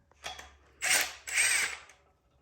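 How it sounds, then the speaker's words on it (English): An impact wrench speed-runs cylinder head bolts down on a Porsche 911 engine, two close, loud buzzing bursts of about half a second each, preceded by a softer short whir, with no talk. "This is just speed tightening. I'm not actually torquing anything with my impact wrench"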